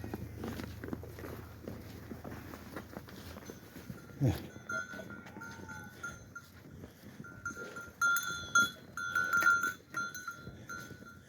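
Sheep feeding in the evening on a winter farm, with faint scattered bleats, shuffling hooves and occasional knocks around the pen, some animal calls rising toward the end.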